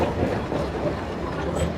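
A train rumbles past close by on a narrow street track in Hanoi, a dense, steady clatter of wheels and carriages filling the short stretch without talk.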